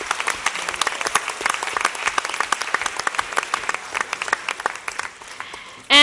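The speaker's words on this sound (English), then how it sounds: "So round of applause to each and every one of them." Audience at a board of education meeting applauds steadily with dense, even clapping that continues for several seconds, then fades near the end.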